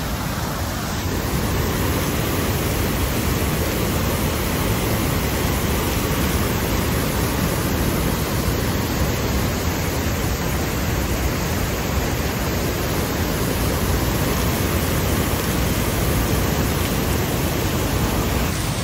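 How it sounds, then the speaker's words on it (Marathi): Waterfall near Dhootpapeshwar temple in Konkan, a dense, unbroken roar of rushing, crashing water, loud and close throughout with no voices. "वॉटरफॉल बघूयात जरा. खूप मस्त आहे वॉटरफॉल."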